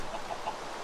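A chicken in Minecraft clucks in a few short, soft, fairly high bursts against a steady background hiss, with no talk.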